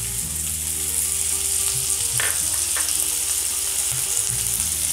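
Onion sautéing in a pan as the first step of a spinach and corn pie filling: a steady, fairly loud sizzle runs throughout, with a few soft scraping stir sounds and no voice.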